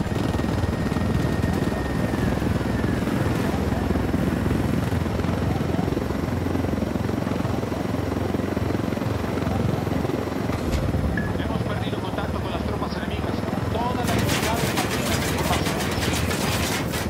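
Helicopter hovering above the battlefield in the video game Ghost Recon Wildlands, its rotor wash a loud constant roar throughout, with sharp crackling impacts near the end.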